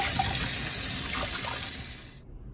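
Tap water runs steadily into a sink while brewing bottles and caps are washed and rinsed, a close continuous gush with faint clinks before it cuts off abruptly near the end.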